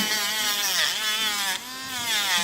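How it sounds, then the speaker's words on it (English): An Andis cordless pet grinder set to high files a dog's nail, giving a steady close buzzing whine that wavers in pitch as it presses into the nail and eases off, with no voices. "I'm going to go ahead and bump that all the way up to high there, and then we'll start filing here"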